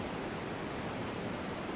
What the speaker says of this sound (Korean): 여기 파래서 폭포 보이네요